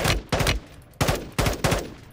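Gunfire in Call of Duty Warzone 2.0, a few sharp close bursts of rapid shots separated by short pauses, loud and punchy with no talking over them.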